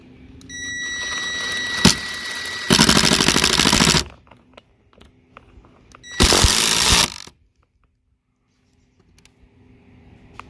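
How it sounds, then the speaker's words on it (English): A power driver screwing a metal bracket into a wooden garden post: a steady buzzing machine whir with a sharp knock, then two loud bursts of high-speed rattling drive, separated by a pause, ending in near silence. "line up your bracket with your line and just screw it in"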